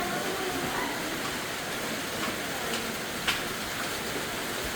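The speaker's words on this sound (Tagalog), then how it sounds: "Ang lakas ng ulan." Heavy rain pours in a steady broadband hiss, fairly faint and continuous, with a couple of brief knocks partway through.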